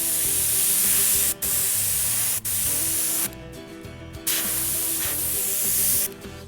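An airbrush spraying ink over a dice tattoo stencil, a close, steady hiss broken by a few brief pauses and short gaps as the trigger is released and pressed again.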